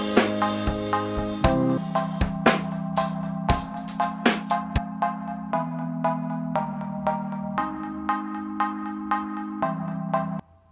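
A bright arpeggiated synth pattern with augmented voicings repeats quickly in an even pulse, its pitch shifting every few beats, with a click track and drums along, then stopping abruptly.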